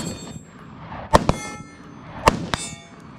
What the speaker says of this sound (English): Once you hear a ping, go to the next target.